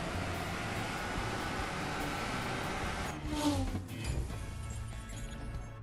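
A Toyota GR86 races in the CSR2 drag racing game, its engine droning, then climbing in pitch midway through with a brief surge and shift before settling back to a steady hum.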